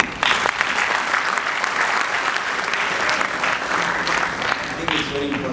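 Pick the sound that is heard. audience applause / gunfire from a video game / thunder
audience applause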